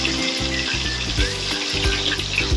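Rohu fish frying in oil in a pan, a steady loud sizzle and crackle running throughout, with no talk.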